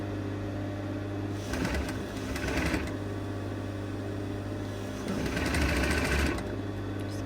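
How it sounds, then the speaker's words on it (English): A sewing machine joins the lining and gathered hems of a sleeve in two short runs, its motor buzz rising over a steady background hum and then falling quiet between them. "So basically I'm sewing the two hems of the sleeve together, the lining section and the gathered section."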